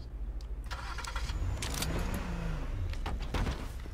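A car engine in the H1Z1 Just Survive video game starts with a brief starter whine and revs up and down, with rising and falling tones and a few clunks, moderately close with no talk.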